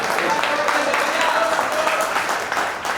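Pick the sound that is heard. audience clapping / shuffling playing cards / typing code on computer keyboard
audience clapping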